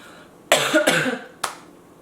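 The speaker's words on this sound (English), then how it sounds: "Excuse the coughing" Two quick harsh coughs close together, then a single shorter cough after a brief pause, close and fairly loud.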